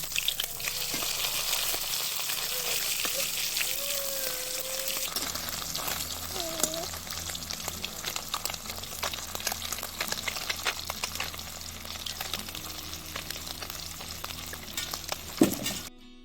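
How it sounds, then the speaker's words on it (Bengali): Amudi fish frying in oil, a loud, continuous close-up sizzle with a crackling hiss lasting throughout, a few brief whistling tones early on and a clink of a utensil near the end. "এইভাবে বাকি মাছগুলো ভেজে নেব"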